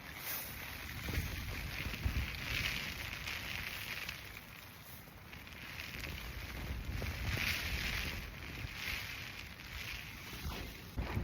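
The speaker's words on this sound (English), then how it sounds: "it is so windy." Gusty wind rushes over the microphone outdoors on a rainy Lofoten mountainside in Norway, a steady broadband roar that swells and eases in waves for the whole stretch, with no voices.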